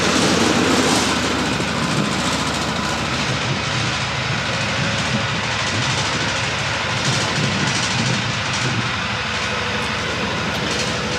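An ATV engine in an ATV-to-side-by-side conversion runs loud and close as a steady, dense roar with no break. It holds at one level throughout and is heard alone without talk.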